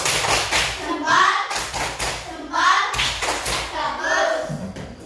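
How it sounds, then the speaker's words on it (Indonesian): Schoolchildren in an elementary classroom do a thumbs clap, a few loud rounds of rhythmic patting and tapping in bursts, close by, with children's voices mixed in. "Kasih tepuk jempol."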